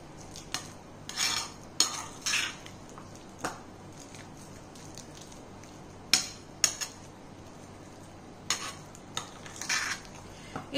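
A tuna mayo sandwich filling with onions and capsicum is stirred in a bowl, with irregular bursts of spoon scraping and clinking against the sides and quieter gaps in between.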